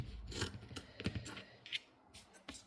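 Scissors snipping through fabric to cut an upcycled sewing patch, a few quiet close crunchy cuts spaced out over a couple of seconds.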